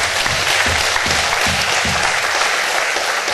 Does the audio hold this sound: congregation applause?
yes